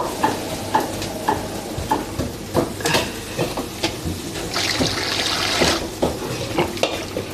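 Boiled large macaroni pours from a pot into water, a close wet clattering rush with rhythmic knocks, and a brighter splashing stretch in the middle.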